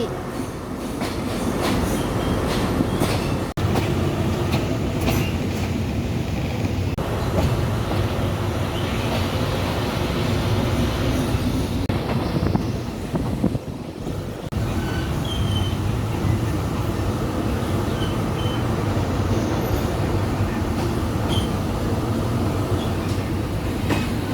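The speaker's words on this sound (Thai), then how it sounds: "วันนี้ขบวนธรรมดาที่313 กำลังเข้ามาทำขบวนเมื่อกี้" Ordinary passenger train number 313 rolls into a Thai railway station, a loud continuous rumble of wheels and carriages with squealing and clatter close by, and a voice briefly audible at times.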